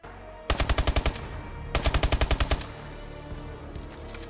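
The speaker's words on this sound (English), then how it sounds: "Play Advanced Warfare or World War II and listen to what the guns sound like." Automatic gunfire from Call of Duty Advanced Warfare or World War II: two tight bursts of about seven and eight rapid, loud shots, then a few faint distant shots under game ambience.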